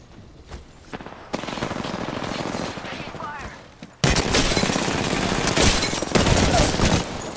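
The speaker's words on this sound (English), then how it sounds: "I shot at it" Dense automatic gunfire in Apex Legends, long sustained bursts of rapid shots that cut off and resume louder, close and harsh, with game sound effects layered in.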